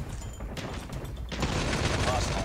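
AK117 gunfire in Call of Duty Mobile: a rapid, sustained burst of automatic shots erupts midway, dense and loud, following a quieter stretch of game noise.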